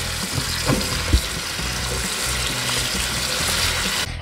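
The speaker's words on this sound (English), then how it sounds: "Then we're going to wash it with water." Running water from a tap rinses cabbage being prepared in a home kitchen, a steady broadband splash with a couple of brief knocks, close and constant throughout with no talk.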